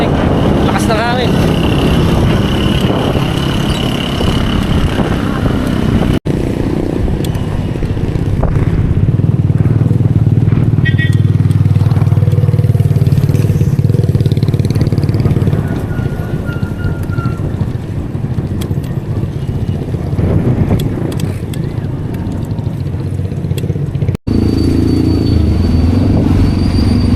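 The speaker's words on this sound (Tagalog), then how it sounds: "sobrang lamig. Lakas ng hangin." Strong wind roars steadily over a solo bike ride on the Sariaya bypass in the cold early evening, a dense low buffeting rumble that fills the whole stretch, close and loud, with faint road noise underneath.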